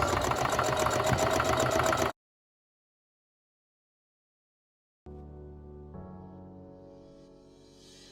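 Domestic sewing machine stitching fabric for a handmade basket, running in two bursts of steady motor whir separated by a few seconds of silence, the second run fading slightly.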